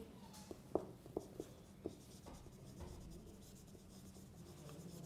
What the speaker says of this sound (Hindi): मैं इधर लिख रहा हूँ इसको,